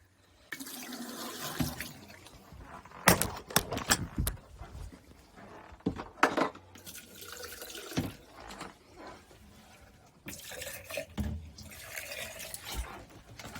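RV antifreeze poured into the sink and drain P-traps while winterizing a camper: close gurgling, splashing liquid in several separate pours, broken by short gaps and a few sharp knocks of the bottle.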